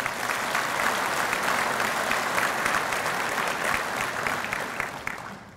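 Sustained applause from a banquet crowd at an agricultural cooperative's 50th anniversary dinner, dense steady clapping filling the room for several seconds and tapering slightly at the end.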